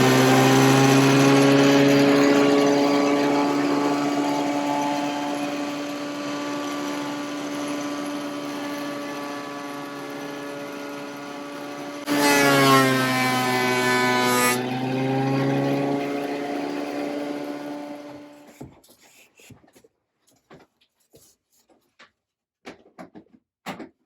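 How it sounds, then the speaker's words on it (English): A thickness planer runs loud and steady with a strong whine while surfacing a wooden part for a Christmas tree decoration. The pitch shifts and thickens midway as the board feeds through, then the machine winds down into scattered clicks. "So we're going to use our thickness planer to make a nice surface for this"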